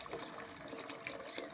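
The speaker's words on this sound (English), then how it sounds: "What about if I put fresh water in?" Fresh water pours steadily into a dog's bowl at a beach walk stop, a continuous close splashing gush lasting under two seconds with no talk.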